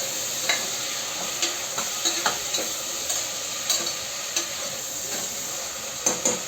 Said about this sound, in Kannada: ಟೊಮೆಟೊ ಹಾಕಿ ಫ್ರೈ ಮಾಡ್ತಾ ಇದ್ದೀನಿ